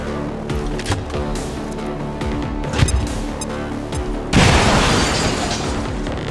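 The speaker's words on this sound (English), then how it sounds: "Bombs away!" A bomb explodes in the XCOM 2 tactical video game, a loud broadband blast that bursts in near the end and rumbles on, following a busy mix of game sounds and smaller impacts.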